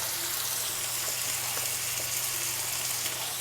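Chicken mince frying with garlic and ginger paste in a pan, a steady close sizzle with crackling throughout, no talking.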